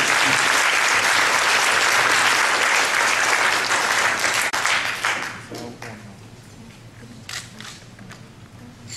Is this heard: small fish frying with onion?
no